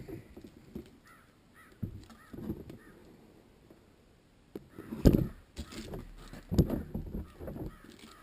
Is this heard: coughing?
no